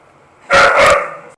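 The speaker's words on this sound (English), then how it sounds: "Dogs just ran down here." Dogs that have just run downstairs bark in a short, loud, close burst, with a brief clipped yip at the very end.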